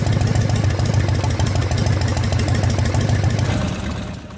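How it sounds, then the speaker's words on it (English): A warmed-up Harley-Davidson V-twin fitted with an S&S Super E or G carburetor idles steadily and loudly up close, with a rhythmic low lumpy pulse, then fades slightly at the end. "With the engine fully warmed up and idled"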